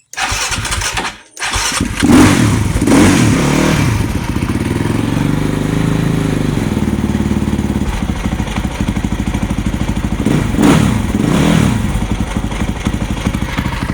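A 2008 Husqvarna TE450 motorcycle engine kicks over after a brief silent gap, catches, and settles into a loud, steady, close idle with small throttle swells, running alone throughout.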